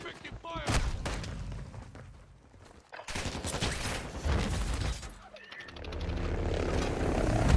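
Bursts of automatic gunfire in a military shooter video game, crackling in repeated volleys with aircraft rumble underneath and voices talking over the action.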